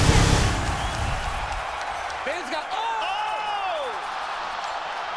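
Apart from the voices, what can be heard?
arena crowd cheering at UFC fight, from a video game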